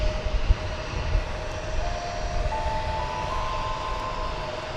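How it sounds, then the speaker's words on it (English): An American Airlines jet takes off from runway 36 Right at DFW airport with a loud, steady engine roar and a rising whine, heard from a distance with no voices. "American 2294, and on behalf of runway 36 right, clear for takeoff."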